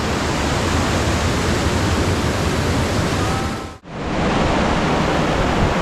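Steady, loud broadband rush of a waterfall near a dam, with drizzling rain, continuous and close, broken by one brief dip in level before resuming unchanged; no talk.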